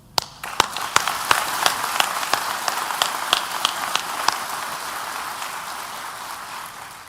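Applause at a San Bernardino County Sheriff's academy graduation ceremony starts with sharp separate claps and then swells into a steady, dense wash of crowd clapping that fills the room.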